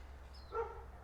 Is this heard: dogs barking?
yes